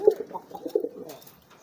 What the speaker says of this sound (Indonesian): Ini giringnya keras juga nih, teman-teman